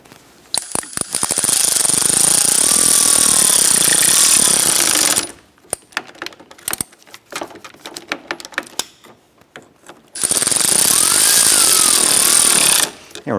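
Rapid impact-style power tool snugging fan bolts on a 1993-1997 Ford Ranger, two loud sustained bursts close up with scattered clicks and taps between them, no talk.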